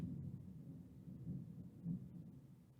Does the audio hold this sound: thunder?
yes